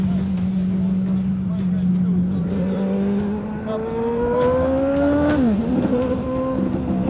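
A racing car with about 650 horsepower drives on track, its engine droning loudly and rising steadily in pitch as it accelerates, then dipping briefly at a gear change before climbing again.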